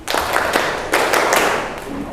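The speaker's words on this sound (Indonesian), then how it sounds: "Kalau kamu suka matematika, tepuk tangan." Students clap their hands in rhythm during a classroom song, a quick series of sharp, close claps in uneven groups over about two seconds.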